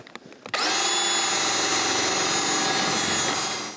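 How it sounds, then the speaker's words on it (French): After a few faint knocks, an electric drill bores a hole into a snowmobile part outdoors in snow, whining loudly and steadily for about three seconds before starting to wind down. "je peux percer un trou pour y mettre un autre boulon"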